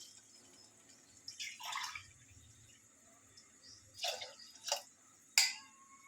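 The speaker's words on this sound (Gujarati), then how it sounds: "1 ગ્લાસ પાણી નાખ્યું" Water splashes into a pot of vaghareli khichdi in several short pours and glugs, close and fairly quiet, with pauses between them.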